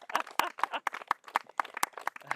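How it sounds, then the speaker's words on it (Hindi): Scattered clapping from a small satsang gathering, a dozen or so distinct sharp claps in an uneven rhythm, fairly close and moderately loud, with no talk over them. "ताली मारो जरा"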